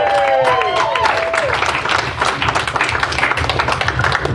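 A karaoke concert audience claps, a dense rattle of hands close by with crowd voices over it at the start, continuing steadily to the end.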